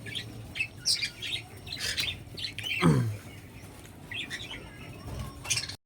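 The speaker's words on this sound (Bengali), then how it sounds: "এরকম লাভবার্ড বেরিয়েছে সফট ফুড খাওয়ার জন্য" A lutino Fischer's lovebird out of its cage for soft food gives sharp squawks and chirps at a moderate distance, with a longer harsh call midway and a few bursts of rustling.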